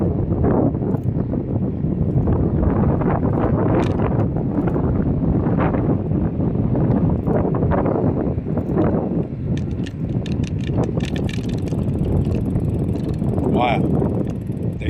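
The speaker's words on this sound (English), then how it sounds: "The headwind sucks already." Strong headwind buffets a cyclist on a ride, loud continuous rushing and rumbling wind noise fills the whole stretch, with a few faint clicks and rattles near the end.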